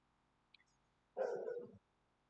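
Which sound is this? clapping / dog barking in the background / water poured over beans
dog barking in the background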